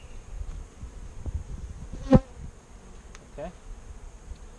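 Honey bees buzz steadily around an open beehive during a hive inspection, a constant insect drone with one sharp knock from the hive tools, and a person briefly speaks.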